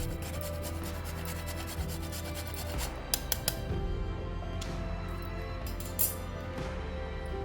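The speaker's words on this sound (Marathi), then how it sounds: "थोडं जायफळ किसून देखील मी घालत आहे" A whole nutmeg is grated by hand, giving a dry, rhythmic rasping of repeated scraping strokes, close and clear, with a few sharper clicks partway through.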